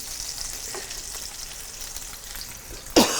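Meatballs sizzle and brown in a frying pan with a steady hiss and crackle, and a louder burst of frying near the end as they are moved.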